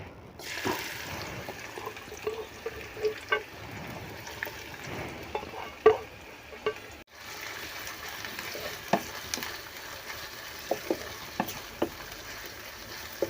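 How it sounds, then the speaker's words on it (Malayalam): Sliced onions frying in hot oil give a low, steady sizzle, punctuated by repeated clacks and scrapes of stirring in the pan. "നമുക്ക് ഈ അരിഞ്ഞെടുത്ത സവാള ഒന്ന് വറുത്തെടുക്കാം"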